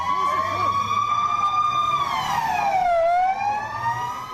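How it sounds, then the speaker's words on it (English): Police sirens wail in Tel Aviv after a shooting at a bar, a loud rising and falling electronic tone with a second siren yelping low beneath it, over street traffic noise. "Police sirens blaring in Israel's commercial capital."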